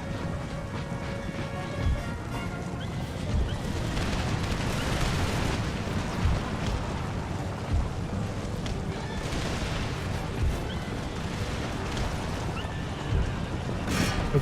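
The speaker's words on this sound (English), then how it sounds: "You guys form up and begin shooting" A continuous din of massed musket volleys rolls across an Empire: Total War battlefield, with booming reports and crackling shots layered into a steady roar and periodic heavier thumps standing out over the whole stretch.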